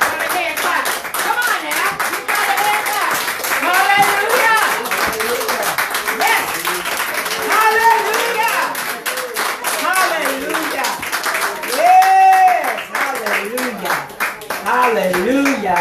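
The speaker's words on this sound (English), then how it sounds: "Give God a hand clap." A church congregation claps hands together during a Shabbat service, a steady crowd of claps running throughout with singing or voices mixed in over the top.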